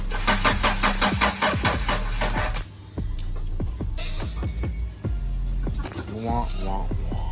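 Honda Accord CB7 engine cranking and starting, with repeated rhythmic starter pulses giving way to a running engine, loud and close, then a sputtering rev near the end.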